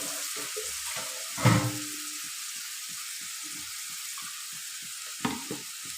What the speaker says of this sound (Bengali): আমি মিক্সি ধুয়ে আবারও জল দিয়ে দিচ্ছি, এর মধ্যে একটু জল দিতে হবে।